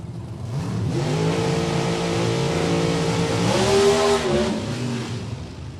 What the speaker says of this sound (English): Miller just launches the car and then shuts it off